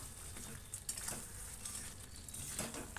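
Mutton rogan josh sizzling in a pot while being stirred, a soft, faint frying hiss with scattered utensil scrapes and light clinks throughout.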